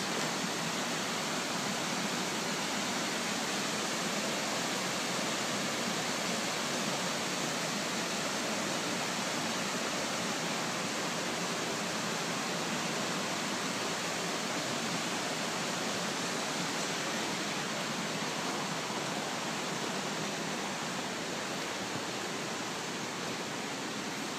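A river rushes through the rocky Kanmangafuchi Abyss gorge in Nikko, Japan. The broad, steady roar stays unchanged throughout, with no voices.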